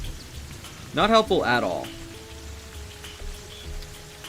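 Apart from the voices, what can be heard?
rain in video game Terraria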